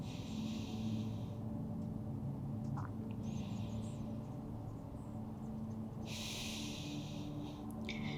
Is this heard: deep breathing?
yes